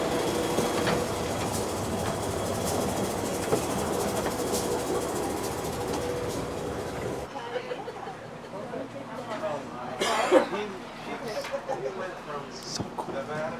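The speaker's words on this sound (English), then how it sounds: "Now we will cross via a rail. Welcome aboard to a train." A passenger train runs along the Panama Canal route, its steady rumble and rolling hiss filling the first half before the sound drops to a quieter cabin with faint chatter and occasional clanks.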